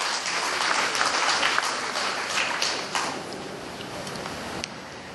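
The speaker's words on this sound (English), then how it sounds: "let's give them a round of applause." A symposium audience gives a round of applause for harmonica players: loud, dense clapping from a full room, steady throughout and tapering slightly toward the end.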